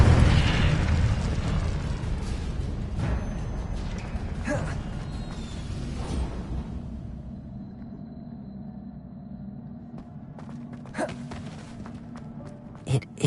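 A fiery Incendio spell blasts out in Hogwarts Legacy, a loud broadband whoosh and burst at the start followed by further crackling flares over rumbling game ambience, trailing off into quieter background with a few sharp clicks near the end.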